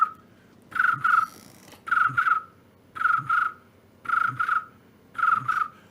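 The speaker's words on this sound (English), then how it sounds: "Crickets." Cricket chirps repeat in short paired bursts about once a second, five clear groups in close, steady rhythm over a quiet background.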